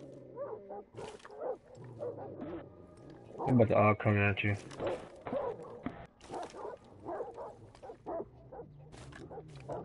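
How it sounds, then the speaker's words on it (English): Dogs bark and snarl in the video game Rainbow Six Siege, with one loud, harsh burst in the middle among gunfire-like clatter, all under frequent overlapping talk from a player. "Them dogs sound fucking vicious as fuck though."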